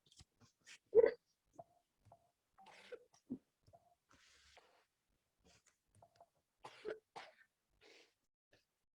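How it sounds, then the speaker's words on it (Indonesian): A woman gives a sharp cough, followed by a few smaller coughs and throat clearing, close and fairly quiet in an otherwise still room. "Saya kira nggak akan sampai batuk."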